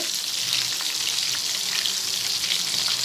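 Prawn balls frying in hot oil, giving a steady, dense crackling sizzle that runs unbroken throughout at close range.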